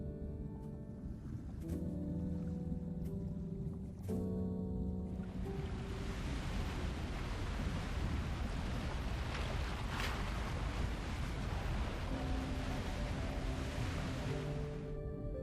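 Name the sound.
strong ocean waves, from a video game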